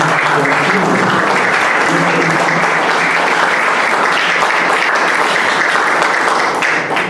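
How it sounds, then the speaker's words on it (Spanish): Loud, dense applause fills a large assembly gathering, steady and sustained from start to finish, with some voices faintly mixed underneath. "Vamos a dar un fuerte aplauso a nuestros hermanos."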